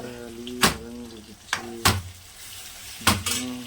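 Tomatoes sautéing in a pan, a soft sizzle under a voice humming or speaking, broken by three or four sharp spoon-against-pan knocks, close by.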